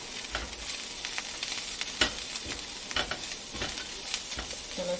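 Vegetables lightly sautéing in a pan for curry fried rice, a steady close sizzle broken by scraping stirs and clinks of the utensil throughout, with no talking.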